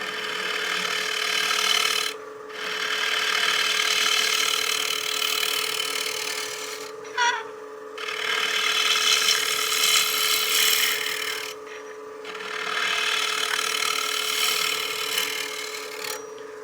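A drill bores a hole in wood turning on a lathe, producing a loud continuous grinding whir with a steady hum, broken by three brief pauses, close and without talk.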